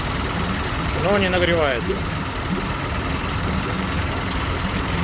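A Tohatsu MFS9.9B2 outboard motor runs at a steady idle, a loud continuous chugging drone throughout, while someone speaks briefly over it.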